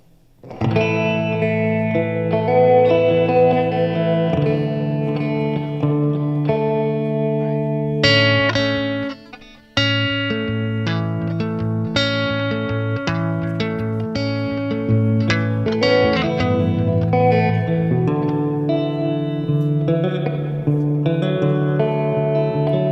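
An electric guitar played through an amp and PA in a church mixing setting rings out with heavy reverb and effects, sustained chords and picked notes, with one brief drop to near silence midway.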